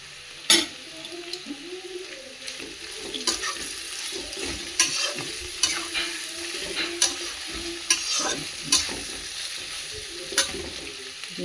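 Radish curry cooking in a pan with ginger paste, Kashmiri chilli powder, turmeric, cumin and salt, a low steady sizzle broken by repeated scraping stirs and spoon knocks every second or so, close up, no voices.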